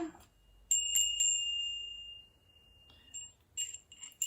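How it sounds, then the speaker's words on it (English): A small bell rings with a clear, high tone, struck once and left to fade, then tapped a few more times lightly near the end. "I have a bell here."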